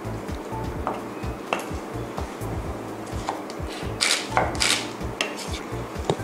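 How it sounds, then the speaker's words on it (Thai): A knife slices a halved kiwi fruit into small pieces on a cutting board for a Thai papaya fruit salad, giving a string of close, soft, irregular cutting thuds with a few light clinks. "เสร็จแล้วก็หั่นนะคะให้เป็นชิ้นเล็กลงอีก"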